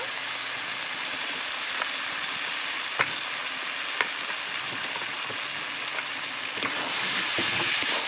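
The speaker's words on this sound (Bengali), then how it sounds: "মশলাগুলোকে ভালো করে কষিয়ে নেব যতক্ষণ পর্যন্ত পাশ থেকে তেল না ছাড়ায়" Spices frying in oil in a pan for a village-style Morala fish curry make a steady, moderate sizzle, broken by a few sharp ticks and clicks.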